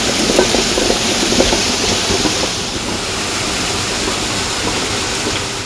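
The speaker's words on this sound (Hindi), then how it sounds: "पहाड़ों में घाट कैसे होते हैं, गांव के बिल्कुल साथ में घाट है।" Steady, loud rush of stream water driving a traditional gharat water mill beside a mountain village in Jammu and Kashmir, a continuous broadband roar with faint rhythmic knocking, heard alone without voices.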